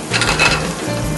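Shallot sweating in oil in a pan, a close, steady sizzle with brief stirring and clinking of a utensil against the pan.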